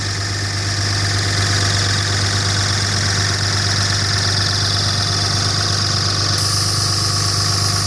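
The engine of a 2007 Dodge Ram 5.9 Cummins runs steadily up close while a York 210 onboard air compressor builds pressure, giving a continuous loud drone. Near the end a shift in the hiss suggests the clutch cutting off.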